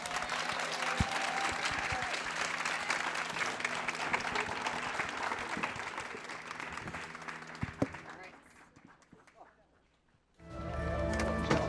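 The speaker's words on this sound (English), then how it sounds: "So one more round of applause." A festival panel audience claps in sustained applause, loud and dense for about eight seconds, then fading to near quiet before a fresh burst of crowd noise at the end.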